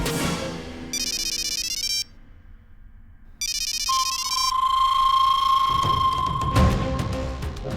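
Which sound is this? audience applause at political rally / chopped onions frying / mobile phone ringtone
mobile phone ringtone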